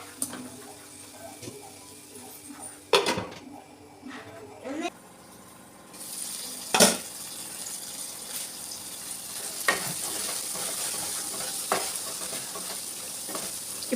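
Chopped tomatoes frying in oil for a Telugu fish curry, a steady broadband sizzle with stirring scrapes and a few sharp clatters, fairly close, with a voice occasionally heard.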